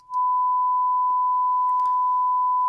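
A pure, steady test tone from the test generator of a Behringer P16 starts abruptly and holds unchanged, with faint clicks and rustles in the background.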